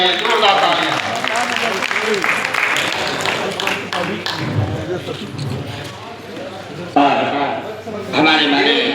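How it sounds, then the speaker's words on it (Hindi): Applause at a journalists' association convention welcoming Deputy Chief Minister Brajesh Pathak, with steady clapping from the crowd, faint voices and a sharp thump near the end. "इनके स्वागत के लिए जोरदार करता तालियां बजाइए, जोरदार तालियां।"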